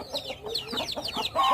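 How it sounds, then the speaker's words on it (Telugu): Kadaknath chicks cluck and peep in quick, close bursts, a busy run of short high calls with a brief louder flurry at the end. "కోడి పిల్లలు, కటకనాథ కోడి పిల్లలు చూడు ఎంత బాగున్నాయో"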